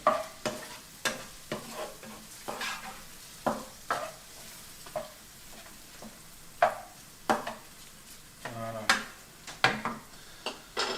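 Garlic and shrimp cooking together in a pan, with a soft sizzle broken by many quick utensil stirs and scrapes, clustering more densely toward the end.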